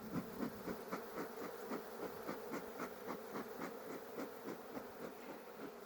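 Dense, steady droning hum of agitated honeybees crowding a full hive box, close and continuous with pulsing swells in the buzz, no voices.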